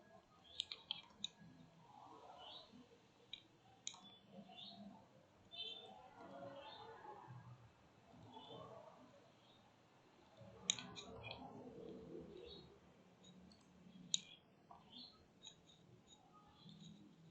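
Sharp computer mouse clicks, single and double, scattered through the clip during GeoGebra geometry work, heard under quiet talk.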